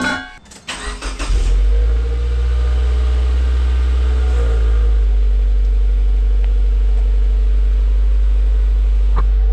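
A Subaru engine with a WRX exhaust fires up with a brief burst, then settles into a loud, deep, steady exhaust rumble that holds close by throughout.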